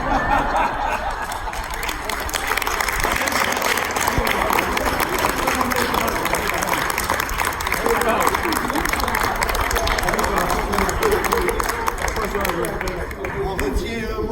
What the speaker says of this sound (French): j'ai gardé une quinzaine de minutes pour les applaudissements